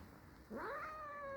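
A small cat gives a single clear rising meow outdoors, close and fairly loud over quiet background noise.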